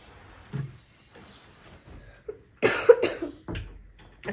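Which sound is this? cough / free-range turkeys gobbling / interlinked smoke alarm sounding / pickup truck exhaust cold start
cough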